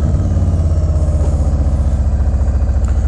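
Harley-Davidson Road Glide engine idling close up through an aftermarket exhaust, a loud, steady, loping low-pitched rumble with even pulses and no talk.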